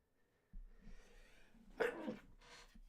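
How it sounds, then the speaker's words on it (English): A single sharp sneeze bursts out close to the microphone after some quiet breathing and faint rustling, followed by a short exhale. "it's my first sneeze of the stream"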